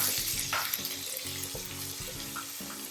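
Cashews, chopped onion and split green chilies sauteing in hot oil, a loud continuous sizzle and crackle with rhythmic scraping stirs close by.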